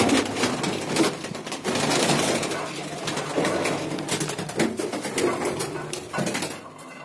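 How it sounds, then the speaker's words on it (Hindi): Male pigeons in a home loft cooing, a close, continuous layered murmur of throaty coos with some rustling and shuffling throughout. "ये रहे हमारे सब मेल कबूतर।"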